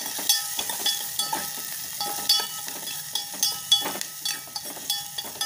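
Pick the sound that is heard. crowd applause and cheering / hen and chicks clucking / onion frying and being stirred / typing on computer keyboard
onion frying and being stirred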